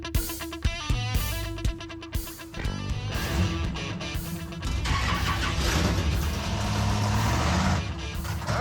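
Two drag cars with 305 and 350 engines and turbo 350 transmissions rev in sharp bursts on a practice run, then settle into a sustained loud engine roar close by.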